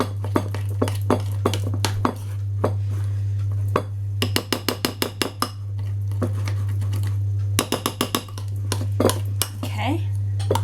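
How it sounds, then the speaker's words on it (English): Chocolate orange cake batter with chocolate drops being mixed in a bowl: rapid runs of small clinking spoon strokes against the bowl, in bursts and pauses, over a steady low hum, with some talking. "Keep mixing and mixing."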